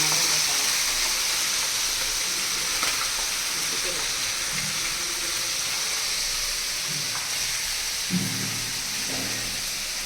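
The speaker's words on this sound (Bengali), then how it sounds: "দেখো তেলের মধ্যে জিরা ফোড়ন দিয়ে দিলাম, তারপরে কিন্তু তেজপাতা, শুকনো লঙ্কা ফোড়ন দেব" Cumin seeds and bay leaves temper in hot oil with a continuous close hiss and sizzle, broken by a few faint knocks and clatters of utensils, no voices.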